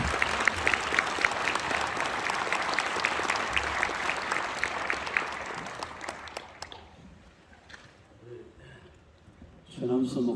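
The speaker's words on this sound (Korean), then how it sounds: "박수로 모셔드리겠습니다" Church audience applauding as a pastor, head of a denominational general assembly, is welcomed to the pulpit; sustained clapping for about six seconds, then fading to quiet murmurs before a brief burst of sound at the end.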